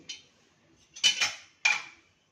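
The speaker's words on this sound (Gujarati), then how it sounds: "આપણું કુકર અહીંયા ઠંડુ થઈ ગયું છે. હવે આપણે એને ખોલીશું." A cooled pressure cooker is opened after steaming lemons, giving a light metallic clink followed by two louder, close clanks of the metal lid a moment apart, with no voices.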